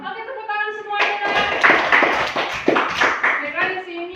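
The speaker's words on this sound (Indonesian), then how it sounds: "tepuk tangan semuanya" Children in a classroom clap their hands together in a loud, rhythmic burst after a teacher's cue, with a voice speaking at the start and over the claps.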